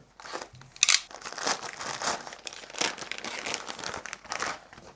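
Reusable plastic clothing packaging crinkles and rustles continuously up close, with a sharp crackle near the start and steady handling noises throughout.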